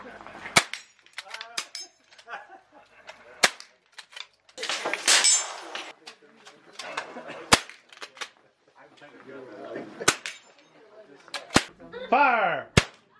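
Sharp, distinct cracks from .22 rifles, one dating from 1929, firing at balloon targets 500 yards away during long-range plinking, spaced irregularly across the stretch with faint background murmur and clatter between shots.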